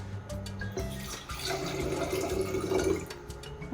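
Hydrogen peroxide poured from a measuring cup into a vase for an elephant toothpaste experiment, a steady liquid gurgle and fill lasting a few seconds, close and fairly quiet.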